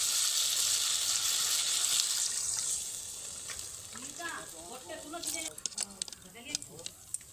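Water poured into a pan of fish curry that was frying, a loud hiss and sizzle at first, settling into softer bubbling and stirring with scattered small clicks and taps.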